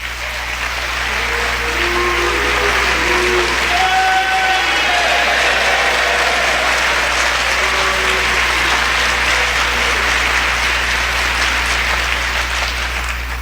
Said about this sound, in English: I heard both the applause and the boos.